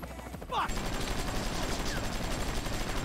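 Gunfire in the video game Grand Theft Auto V, a brief crackle of shots with a quick whooshing swoop near the start, followed by a steady din of game noise, no voices.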